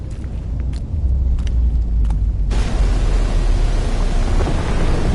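Thunder rolls through a lightning storm as a continuous, loud, low rumble with a rain-like hiss that swells and thickens partway through and then holds steady.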